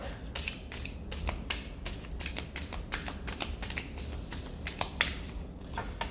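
A tarot card deck shuffled by hand to clear it, a run of soft riffling flutters and light slaps repeating steadily at close range in a quiet room.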